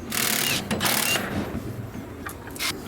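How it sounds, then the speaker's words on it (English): A ratchet clicks close by as it works on the bolts of a Ski-Doo Gen 5 850 snowmobile's harmonic balancer, giving quick bursts of ratcheting with brief gaps between them. "I'm gonna remove the 6 bolts out of the harmonic balancer."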